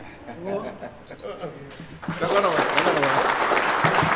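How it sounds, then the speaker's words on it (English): Applause and cheering from an audience at a 2nd Armored Division reunion swell up halfway through, following a stretch of talking, with voices continuing over the clapping. "Let's give her a nice round of applause."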